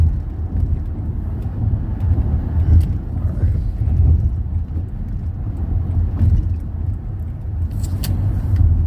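Inside a used car on a test drive, a steady low road and engine rumble fills the cabin, with a few faint knocks and rattles over the drone.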